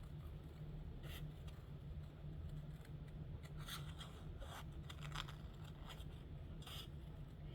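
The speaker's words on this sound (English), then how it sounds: "Of course, you can use the little scissors." Small scissors cutting a paper heart shape, a series of quiet snipping and rasping cuts close by over a low steady hum, with no talk.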